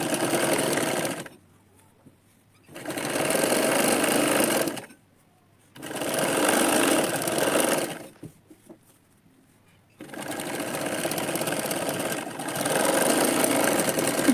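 A sewing machine stitches a katori blouse in three long loud runs of steady whirring, separated by short quiet pauses, close up.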